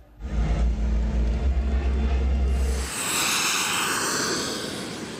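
A loud aerobatic display aircraft engine roars overhead at an air show, a deep rumbling drone that shifts into a rushing, hissing sweep as the plane passes close by.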